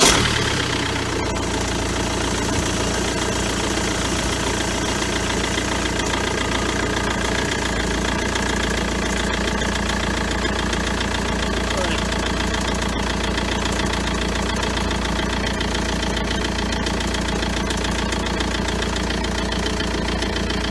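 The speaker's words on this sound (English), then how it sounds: "I think what I might do is just start the car, get the fuel line pressurised" A BMW X3 E83 with the 2.0-litre diesel starts and settles into a steady idle, its diesel clatter close, loud and continuous throughout, with no talk over it.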